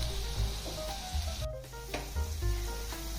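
Onion pakodi sizzle steadily as they fry in hot oil, a close, continuous crackle with occasional soft stirring clinks and no speech.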